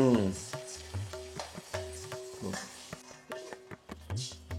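Coriander seeds dry-roasting in a pan for bisibele bath give a soft sizzle broken by repeated scraping strokes of stirring, quiet and close, with a voice briefly heard in the background.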